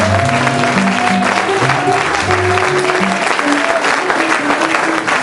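A church congregation claps loudly and steadily throughout, continuous applause filling the room while music plays underneath.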